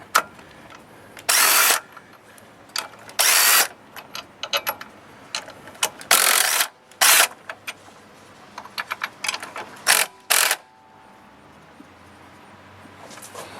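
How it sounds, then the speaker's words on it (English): Bursts of an impact wrench removing the valve cover bolts on a 2011 Nissan Altima 2.5 SL, several loud rattling bursts of about a second each with quieter clinks and handling noises between them, close and with no talk. "using the impact just to speed things up a bit."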